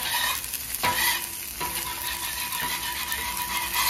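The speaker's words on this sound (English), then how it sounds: "I'm going to get some of these wings in the garlic parmesan butter." Chicken wings being stirred and tossed in garlic parmesan butter on a Blackstone griddle, a steady loud sizzle and frying hiss up close, broken by a few sharp scraping and clinking strokes of a spatula on the hot metal.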